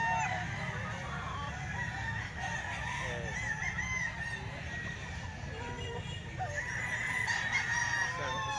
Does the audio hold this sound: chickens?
yes